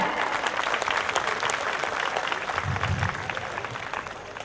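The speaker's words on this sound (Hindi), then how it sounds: "तो एक बार इन कलाकारों के लिए जोरदार तालियां।" An audience at a Bahadurgarh silver jubilee celebration applauds performers, a dense, steady burst of clapping that fills the whole moment and tapers slightly toward the end.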